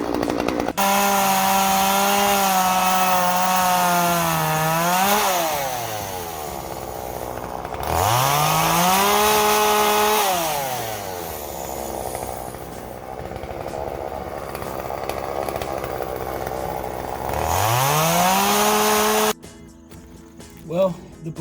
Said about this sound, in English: the blade came out of the chainsaw